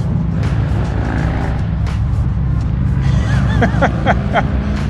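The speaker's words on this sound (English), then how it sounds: "I know that's picking up the sounds of the motorcycles" Engines of motorcycles passing by, a loud continuous rumble with rising whines toward the end.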